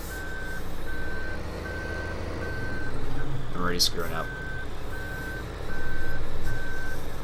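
A vehicle backing up in Farming Simulator 2015 gives regular, evenly spaced reversing beeps over a low engine rumble, with one brief sharp squeal midway as someone talks over it.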